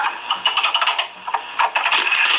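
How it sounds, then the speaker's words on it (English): Rapid mechanical clicking from a late-1960s Facit mechanical adding machine, a close, dense run of sharp clacks with a brief pause midway before the clatter resumes. "Cool clicking."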